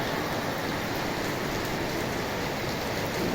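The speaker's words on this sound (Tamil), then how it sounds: "மழை கொட்டு மழை தண்ணி பாருங்கள் மேலேருந்து அப்படியே" Heavy rain pours steadily at a temple, a loud, continuous dense hiss of water falling and splashing on surfaces with no pauses.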